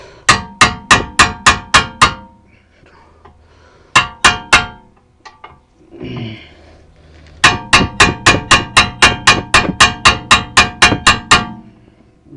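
A hammer strikes a tight bolt on the rear shock absorber of a VW Touran in rapid, ringing metallic blows, loud and close, in bursts of about six to fifteen hits separated by brief pauses with faint clinks and rustling.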